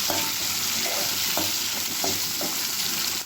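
Chopped tomatoes sizzle steadily in a hot pan while being sautéed soft for a Tamil uppu paruppu, with a few soft scraping stirs of a spatula cutting through the constant close frying hiss.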